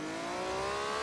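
An MG Metro 6R4 with a 3-liter engine in Forza Horizon 3 revs high at launch, a steady loud whine holding rising tones throughout, with no talking.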